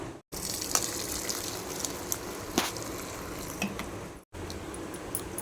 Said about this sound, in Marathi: आता आपण हे पाणी गाळून घेऊया